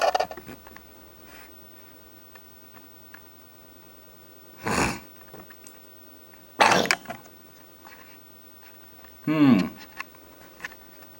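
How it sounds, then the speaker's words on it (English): Throat clearing, three separate loud bursts a couple of seconds apart, close to the mic, over a quiet indoor background with faint handling noise. "Just need to clear my throat."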